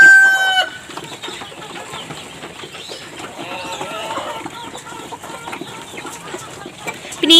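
Free-range country chickens and a rooster kept in a coop cluck and call close by, with a crow at the start and scattered clucks continuing throughout.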